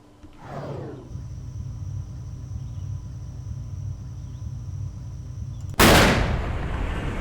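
A single loud, sharp rifle shot aimed at a grizzly bear in Cabela's Hunting Expedition, set in Alaska, cracks out near the end after several seconds of quiet outdoor ambience with a soft insect-like hum.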